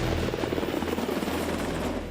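A Coast Guard H-60 Jayhawk helicopter roars close and steady, its rotor beat a dense, continuous thrum with no voices.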